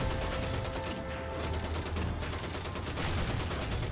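Rapid sustained gunfire in a video game, dense regular bursts like a machine gun with two brief gaps, loud and close, no talk.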